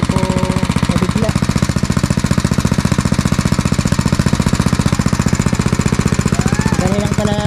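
Close and loud, a motor-driven pipe-driving machine hammers a well pipe into the earth for a hand pump with a quick, unbroken knocking beat, and faint speech comes through briefly.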